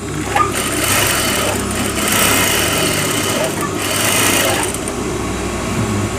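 A sewing machine stitches the side pocket of a pair of trousers in a loud, continuous close-up whir that swells slightly and carries steadily throughout, with no pauses.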